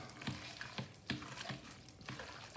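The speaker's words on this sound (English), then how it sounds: "Give it a nice stir." Bolognese sauce with butter being stirred in a pot, a faint bubbling simmer punctuated by soft spoon scrapes at regular intervals, with no talk.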